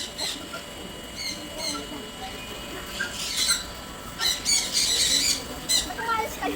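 Birds at the Philippine Biodome give sharp, repeated squawks and chirps in bursts, some of them loud and close, over a busy background of people talking.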